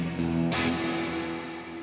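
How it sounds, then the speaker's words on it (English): Guitar tone through a Chase Bliss CXM 1978 reverb pedal, set washy with pre-delay turned up, gives a sustained chord with a clear attack followed by a swelling wash of reverb, loud and alone. "So even though that's quite a washy reverb sound, by turning the pre-delay up, I'm able to get a clear attack on my notes"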